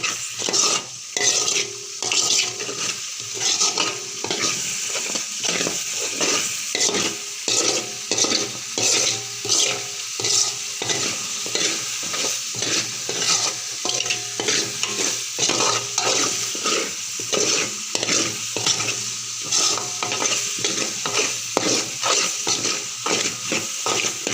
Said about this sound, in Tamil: இதையும் கலந்து விட்டு வணக்கிக்கலாம்